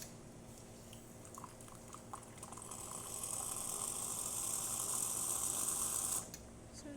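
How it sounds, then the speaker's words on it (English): Hot water running from a Rancilio Silvia Pro espresso machine, a steady hissing, gurgling flow that swells after a few seconds, holds for about three seconds and then cuts off, with faint clicks at the start. "So as you can see, the water's running nice and clear."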